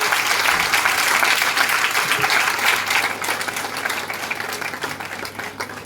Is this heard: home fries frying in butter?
no